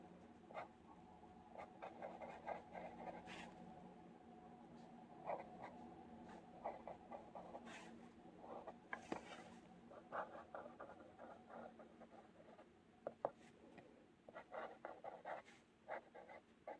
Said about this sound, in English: first of all, some writing.